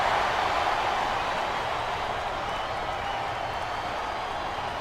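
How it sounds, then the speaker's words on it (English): In the Smackdown vs Raw 2008 video game, a capacity arena crowd roars and applauds as one continuous, dense wall of noise that stays loud throughout. "I see a dominant superstar who's rallying this capacity crowd behind him."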